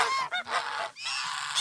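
Several geese honk loudly and close by during a performing goose show, a busy overlapping flock chorus with two brief dips before the honking surges again.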